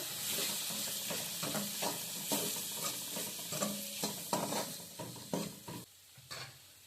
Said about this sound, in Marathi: टॉमॅटो थोडंफार विरघळलं आहे तर त्याच्यामध्ये आपण जे मसाले घेतले होते ते सगळे मसाले टाकून घ्यायचे आणि हे जरासं मिक्स करायचं